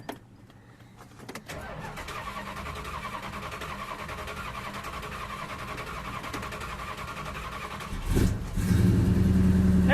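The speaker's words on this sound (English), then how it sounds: "This car hasn't been running like a month, so it's going to crank a little bit." A 1969 Dodge Super Bee that has sat unused for about a month cranks in a steady, even rhythm for several seconds, then catches and fires into a louder, rougher idle, close by with no talking.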